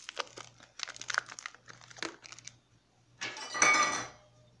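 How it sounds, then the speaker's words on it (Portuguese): A Lux bar soap's wrapper crinkles quietly in short bursts, then rustles louder in one sustained burst near the end, with no talking. "Deixa eu pegar aqui, abrir o sabonete."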